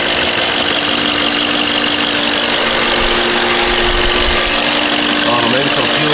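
A BMW 540i engine running just after new fuel injectors were installed, a loud steady idle hum with some knocking texture close by, and a person's voice briefly near the end.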